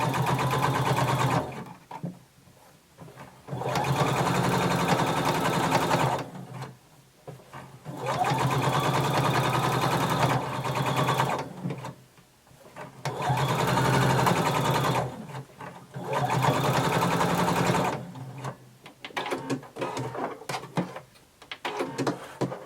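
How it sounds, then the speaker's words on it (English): A sewing machine understitching a garment lining close to the seam, heard in several bursts of rapid, steady stitching separated by short pauses, close and loud with no talking. "we're going to understitch, sewing on the lining about 1/8 of an inch away from our seam."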